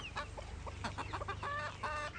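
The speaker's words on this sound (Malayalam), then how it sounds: "ഈ ഭാഗത്ത് നമ്മളെ കോഴികളിങ്ങനെ വിട്ടിട്ടുണ്ട്" Several chickens cluck and murmur close by in short, irregular bursts, with a low steady hum underneath.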